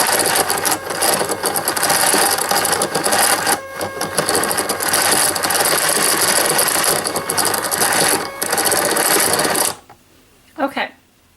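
A yarn ball winder turns yarn into a cake, with mechanical whirring and ratcheting. The loud, dense winding runs steadily, with a few brief dips, then stops abruptly, followed by a short mechanical rattle and quiet.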